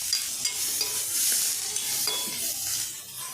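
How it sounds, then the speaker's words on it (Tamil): Chilli chapathi pieces with kurma deep frying in a pan, a steady loud sizzle with a few soft stirring clicks and scrapes, no talking. "நல்லா டீப் ஃப்ரை ஆகணும்."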